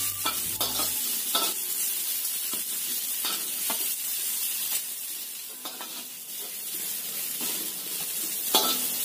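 Chili and garlic fry in a pan over lowered heat, a steady close sizzle broken by repeated stirring scrapes through the whole stretch, with no voices.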